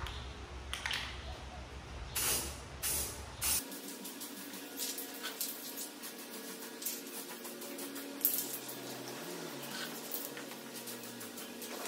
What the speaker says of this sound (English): We're gonna paint this with bed liner.